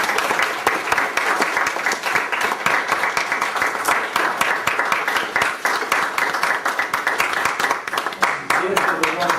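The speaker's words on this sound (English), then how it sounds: "Let's give them a round of applause." Audience applause, a dense steady patter of many hands clapping throughout, with some voices mixed in beneath the sustained clapping.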